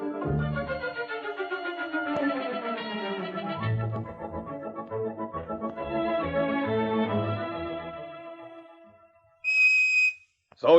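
A sharp, loud whistle blast rings out near the end, following a stretch of bright music.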